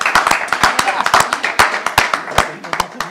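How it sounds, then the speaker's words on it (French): Live audience clapping at an event launching a campaign, a dense run of sharp hand claps that swells and thins over a few seconds, moderately loud and close. "On l'applaudit, s'il vous plaît."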